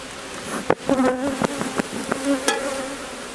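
Honeybees buzz close by while a hive is opened for inspection and queen marking, a dense steady drone with wingbeat hum and a few sharp taps mixed in.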